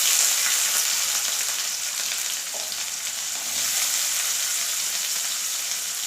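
Onions fry in hot oil with mustard seeds and cumin in a pan, making a continuous loud hiss that rises and falls slightly. A faint stir can be heard, and no one speaks.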